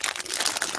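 A big gallon plastic bag stuffed with red sock yarn scraps crinkles and rustles continuously up close, bright and busy throughout, with no talking.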